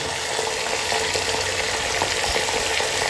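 Spices, onion, tomato and ginger garlic paste frying on high heat in a pan, a dense continuous sizzle with faint stirring bumps, close and even throughout.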